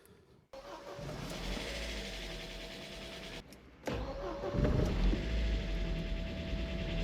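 A Mercedes W202 C220 at a drag race event cranks and fires up, a starter whine giving way to the engine catching and settling into a rumbling idle with a slight rev, close and steady.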